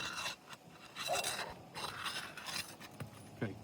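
A hammer pushes and scrapes under roof shingles, rough intermittent rasping strokes with small knocks, close and fairly loud.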